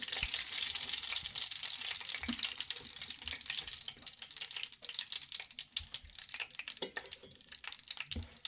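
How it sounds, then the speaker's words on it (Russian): Belyashi meat pies frying in hot oil, a dense continuous crackling sizzle with a few soft knocks of the pan, close and steady. "И обжариваем так каждый беляшек."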